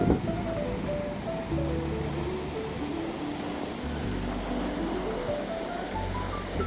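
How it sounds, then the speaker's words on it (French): Ocean surf rolls steadily onto a wild Queensland beach where people are swimming, a continuous broad wash with wind noise and no clear individual break. "il y a l'air d'avoir là des vagues"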